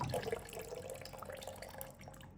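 Whey water poured into hot milk to curdle it for homemade paneer, a steady splashing trickle of liquid running alone for a couple of seconds at moderate loudness.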